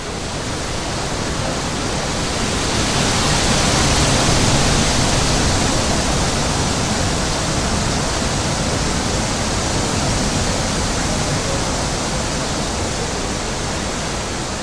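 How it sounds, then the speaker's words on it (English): A loud, continuous rush of wind-like noise, broad and roaring, swelling slightly and then holding steady throughout. "a sound like the blowing of a violent wind came from heaven"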